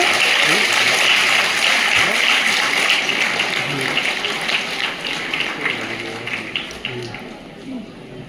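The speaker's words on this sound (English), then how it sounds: "can we have a round of applause for them, please? Louder." An audience applauds students called up on stage, a dense, hissing wash of clapping that runs throughout and eases off slightly near the end, with faint voices beneath.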